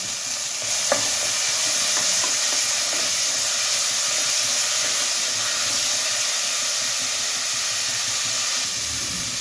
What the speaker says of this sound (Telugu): ఇప్పుడు ఇందులో టమాటా ప్యూరీ వేద్దాము కొంచెం ఇది కూడా కొంచెం పచ్చివాసన పోయే వరకు వేగాలి